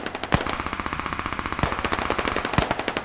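Automatic gunfire in the video game Squad, rapid rhythmic bursts of machine-gun shots repeating evenly throughout, punctuated by a few louder heavy reports, with no talking.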